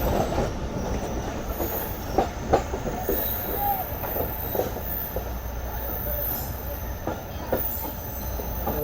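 Sukkur Express passenger train at a station platform, with a continuous loud rumble, occasional squeals and clanks from the railcars.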